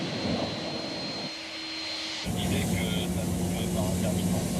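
Airplanes taxi across a snowy, icy runway at Roissy Charles de Gaulle airport, a steady broadband jet engine roar with a hum, rising louder partway through, under ongoing speech.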